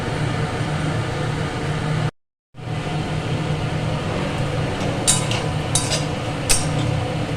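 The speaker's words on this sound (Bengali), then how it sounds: "হয়ে যাক ভাজা বড়াগুলো।" Fritters of drumstick (sajne danta) batter frying in a pan, a steady close sizzle and hiss broken by a brief silent gap, with a few sharper crackles near the end and no talk.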